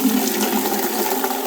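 Fresh water is poured for Nigerian Dwarf goats, a continuous rushing splash that stays loud and close throughout with no voices.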